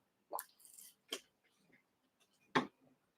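Water is dripped from a brush into a watercolor paint palette, giving a few faint, sparse wet drips and squishes close by, spaced unevenly over a few seconds.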